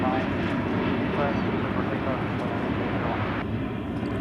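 Volaris airliner lifting off at Dallas Fort Worth Airport, a steady loud engine roar filling the clip from start to finish.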